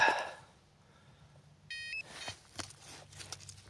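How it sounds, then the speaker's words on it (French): Metal detector sweeping over a ploughed field where Roman coins are found, giving a short steady electronic tone followed by scattered scrapes and handling noises. "Assez bizarre le bip, je dirais."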